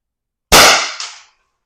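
One sharp, loud shot from a CO2-powered X.68 paintball marker fired with a threaded CO2 cartridge, a crisp pop with a short hissing tail, heard alone against silence.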